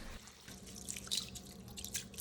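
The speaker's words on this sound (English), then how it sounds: "Keep washing your rice until the water runs clear" Faint dripping and trickling of water as white rice is rinsed in a sink until the water runs clear, with soft irregular splashes and no talk.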